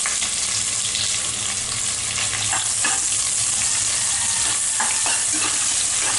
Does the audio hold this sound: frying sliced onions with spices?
yes